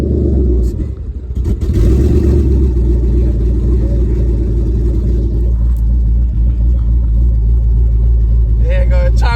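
A 1,000 HP twin-turbo Mustang holds a steady, heavy, rumbling drone on 2-step, loud and close inside the car, with people talking over it.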